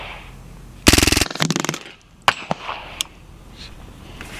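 A Hatsan Blitz .30 PCP airgun rips through the rest of its magazine on full auto, a loud rapid burst of shots followed by a second shorter string, then a few scattered single cracks and clanks.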